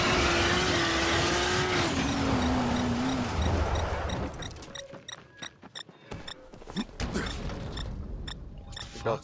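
A vehicle in the zombie game Dying Light: a steady loud engine roar with a rising and falling whine that drops away midway into scattered clicks, knocks and rattles, with no talking.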